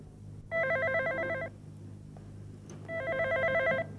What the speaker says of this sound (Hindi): देखो फोन बज रहा है